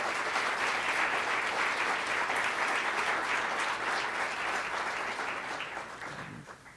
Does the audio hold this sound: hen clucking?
no